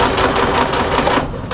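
A sewing machine stitches hammock ripstop fabric at a quick, even clatter of rapid needle strokes, loud and close, slowing and stopping near the end.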